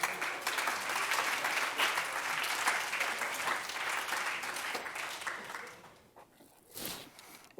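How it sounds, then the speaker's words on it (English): A theatre audience at an illustrated lecture and magic lantern show applauds, sustained dense clapping that holds steady for about six seconds before thinning out, with a couple of final claps. "with that applause"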